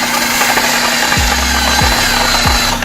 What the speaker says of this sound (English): put it on a drill and it's like that.